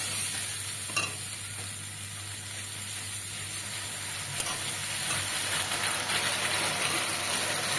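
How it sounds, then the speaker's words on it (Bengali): Ground spice paste with cumin cooks down in a pan with a splash of water for a spicy jackfruit curry, producing a steady, hissing sizzle with a few stirring knocks, close and even throughout, with no voices. "এবার সামান্য জল দিয়ে একটু কষিয়ে নিতে হবে মশলাটা"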